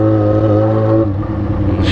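A loud, close Yamaha XJ6 motorcycle engine holds a steady high rev with a strong buzzing tone, then drops and wavers slightly before climbing again, with no talking.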